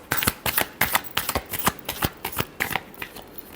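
Tarot cards being shuffled close up in a quick series of crisp riffling bursts and soft slaps, repeating steadily for a few seconds with no voices.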